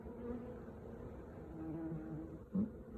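Honey bees hum around a small swarm housed in a poly nuc at an apiary, a soft continuous drone with individual bees buzzing closer now and then, one brief louder pass near the end.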